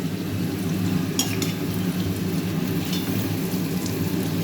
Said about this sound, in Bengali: এবার আমি এতে আস্তে আস্তে চালটা দেব। চালটা দিয়ে 3-4 মিনিট চালটাকে ভাজতে হবে।